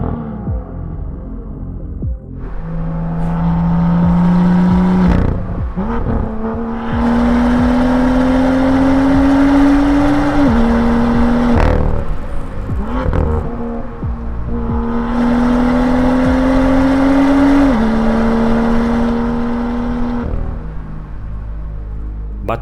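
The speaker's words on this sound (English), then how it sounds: "It is actually getting straight pipe exhaust after this, so it is really loud." A BMW F87 M2 fitted with a straight pipe exhaust revs loudly at close range in three long sweeping pulls, the engine note climbing steadily then dropping back to a rough idle between each.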